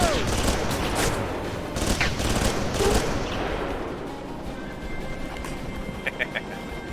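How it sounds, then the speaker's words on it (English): Heavy machine gun fire in the video game Alpha Protocol, rapid bursts of loud shots for a few seconds that fade into background game ambience, with someone talking over it. "Heavy machine gun is a precision weapon"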